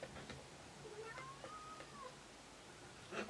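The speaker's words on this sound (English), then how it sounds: "You hear the cat on the video?" A cat gives a single rising-and-falling meow, faint against a steady hiss of room noise, with a few soft clicks around it.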